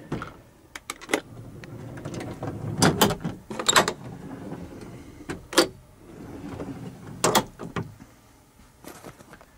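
Drawers in a 2011 Volvo 780 truck cab slide and thud shut several times in irregular succession, with clunks and rattles sounding near in a quiet interior.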